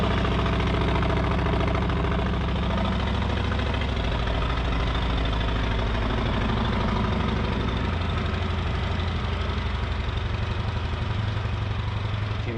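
A Harley-Davidson Street Glide CVO fitted with Reinhardt slip-on exhausts idles up close, its loud, steady, deep throbbing rumble continuing without a break and with no talking over it.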